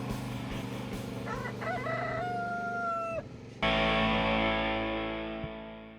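A rooster crows loudly and close, with other chicken calls and clucking around it; the sound turns harsh and distorted near the end.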